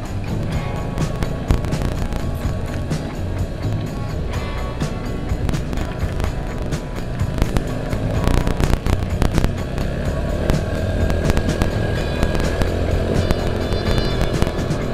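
Old Yamaha Mio scooter fitted with a Shogun Kebo CDI, revving hard and accelerating with a dense, steady engine roar and wind buffeting throughout, no talk over it.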